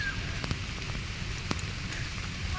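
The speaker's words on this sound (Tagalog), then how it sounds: "Kasi ang lakas ng ulan." Heavy rain patters steadily on a hard surface close by in Punggol Park, with occasional louder drops splashing through the dense hiss.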